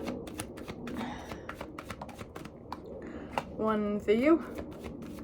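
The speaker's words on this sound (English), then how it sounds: "I'm going to shuffle a couple of these cards" Tarot cards are shuffled by hand in a rapid, steady patter of soft slaps and riffles throughout, close up, while someone speaks briefly near the end.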